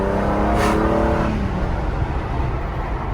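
A red Mercedes W124 engine revs on a test drive, a strong rising mechanical roar that fades into steady road and engine noise, loud and close throughout.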